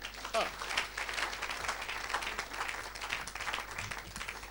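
A church congregation applauds and cheers for Jesus during an evangelist's sermon, a steady wash of clapping and crowd noise with voices mixed in throughout.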